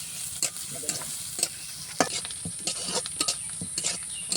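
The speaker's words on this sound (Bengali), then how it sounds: "তেল তো কড়াই আছে, আর একটু করে দিলাম সরিষার তেল। পেঁয়াজটা লাল করে নিব" Chopped onion frying in mustard oil in a wok, a constant sizzle broken by repeated scraping and clattering stirring strokes at close range, with no speech.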